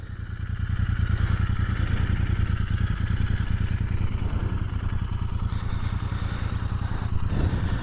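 A Royal Enfield INT 650 engine rumbles at a steady idle nearby, its pulsing low beat holding even for several seconds, alone with no talking.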